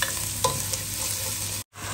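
Garlic and onion sauté in a hot pan, a loud continuous sizzle with brief stirring scrapes, alone and close, cut off by a short gap near the end.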